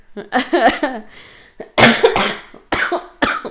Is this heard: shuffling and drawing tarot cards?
no